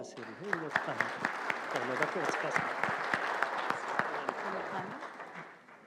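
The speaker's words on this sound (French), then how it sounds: "on peut applaudir le bureau d'avoir organisé quand même cette conférence" Conference audience applauding the organising committee, scattered claps and a steady patter lasting several seconds, with voices talking over it before it thins out at the end.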